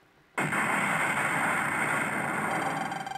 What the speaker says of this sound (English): Three seconds until explosion.